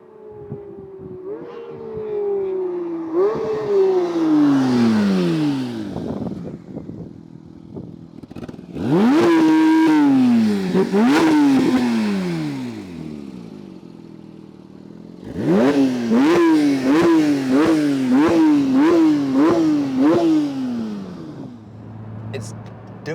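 A Porsche 992 GT3 engine revs hard through repeated rising sweeps as the car accelerates, with sharp upshift breaks and a rapid run of short gear changes later, loud and close with voices heard faintly.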